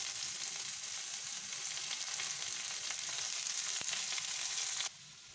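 Chopped garlic and ginger fry in hot oil in a pan, a steady, loud, close sizzle with no voices that cuts off abruptly near the end.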